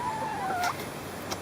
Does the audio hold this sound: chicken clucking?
yes